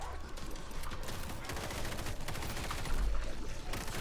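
A Vector submachine gun fires in World War Z, a rapid, steady stream of close shots forming a continuous rattling barrage throughout.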